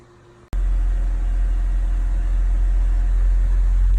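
BMW 128i engine firing up abruptly after a brief quiet moment, then settling into a loud, steady low idle that hums on without change.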